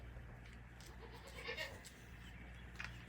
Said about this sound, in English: there's a goat talking and stuff, being talkative